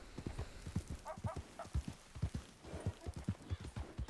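Rhythmic horse hooves clip-clop steadily at a trotting pace, close and crisp, with a brief whinny in the middle, in the video game Red Dead Redemption.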